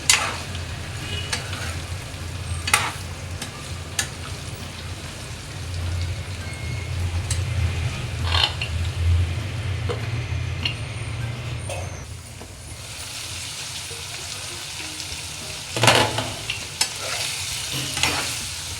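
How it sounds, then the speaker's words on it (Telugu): Eggplant masala fries on a medium flame, a steady sizzle broken by scraping stirs of a spoon through the pan, with louder bursts of stirring near the start and end and no talk. "ఇదంతా ఒకసారి కలుపుకొని మీడియం ఫ్లేమ్లో ఒక 5 నిమిషాల పాటు ఫ్రై చేసుకోవాలి."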